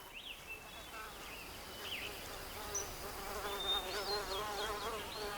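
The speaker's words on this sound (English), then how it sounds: "There's another wild bee called the dwarf honeybee." Wild dwarf honeybees buzzing around their flat nest hidden in a secluded bush, a dense, faint, wavering drone with individual insects passing near, with soft voices in the background.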